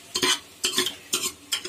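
Golden fried onions are scooped out of hot ghee in four quick, evenly spaced bursts of scraping and sizzle, each separated by a brief lull, close and fairly quiet with no voices.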